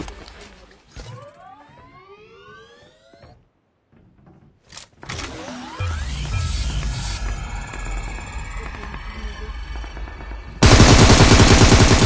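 Gunfire in the mobile shooter BGMI comes as bursts of rapid automatic shots amid game effects and rising electronic tones, with a loud sustained blast of noise at the end.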